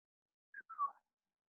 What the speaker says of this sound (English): I'm so sorry for whistling just now.